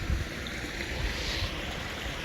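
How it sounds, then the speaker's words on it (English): Water running through a shallow spring-fed stream near an overflow trench, a steady close rushing wash with no voices. "You see how the water's running right here?"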